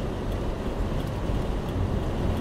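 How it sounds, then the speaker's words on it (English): Strong wind gusting off a lake during a spring bomb cyclone with whiteout snow, a loud, steady roar buffeting the microphone without a break. "that wind is coming off the lake"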